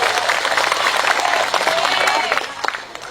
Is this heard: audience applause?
yes